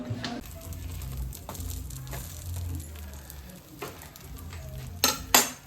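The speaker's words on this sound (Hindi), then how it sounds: "मम्मी बना रही है पराठे पनीर के" Paneer parathas cooking in a pan at home, with a low sizzle, scraping and stirring, plus a few sharp clinks of a utensil against the pan near the end, nearby and moderately loud.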